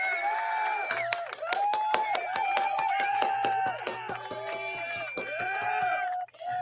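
Quick, sharp hand claps for a host ring out among a small group on a podcast, scattered and uneven, mixed with ongoing talking voices.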